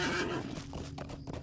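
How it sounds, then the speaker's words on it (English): Horse neighing in the video game LOTRO, a loud whinny at the start that tails off, with hoof clip-clops and game ambience mixed underneath across a short stretch. "let's take the horse there"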